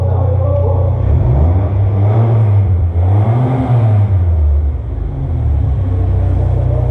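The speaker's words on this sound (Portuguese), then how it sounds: "Não é original esse escape." A Hyundai Santa Fe with an aftermarket exhaust revs loudly and close by, its engine note rising and falling in a couple of sweeping pulls over a steady rumble.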